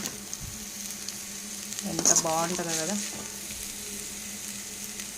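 A tempering of coriander and masala for rice fries in a pan, sizzling steadily in the background while a person speaks briefly partway through.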